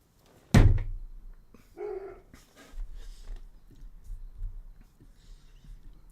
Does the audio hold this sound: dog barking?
yes